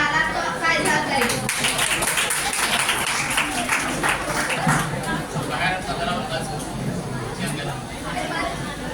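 Audience applause at a Teachers Day celebration in a college hall, sustained clapping from a crowd lasting the whole stretch, with a speaking voice and murmur of chatter mixed in.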